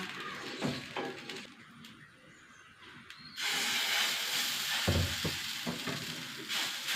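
Wheat ada batter, looser than chapati dough, cooking on a griddle greased with sesame oil, giving a soft steady sizzle with light scraping and utensil clicks, growing louder and fuller partway through.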